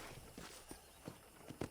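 Horse hooves clip-clopping in the Red Dead Redemption video game, a few soft, evenly spaced hoofbeats at a walking pace, faint and fairly close with no talk over them.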